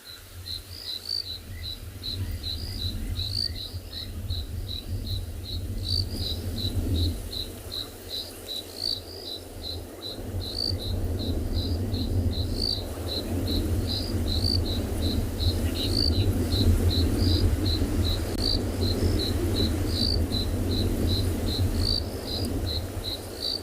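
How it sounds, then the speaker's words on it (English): Crickets, insects and frogs call at night on an African safari in South Africa, a dense rhythmic chirping pulse running throughout over low background rumble and wind. "there's quite a few insects and frogs calling as well"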